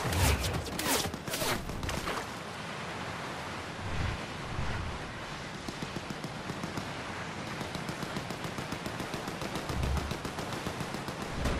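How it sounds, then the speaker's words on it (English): Rapid bursts of video game gunfire crackle steadily over a dense, noisy backdrop, with heavier clusters of shots near the start and scattered punches throughout, fairly loud and continuous for the whole stretch. "We're getting shot at!"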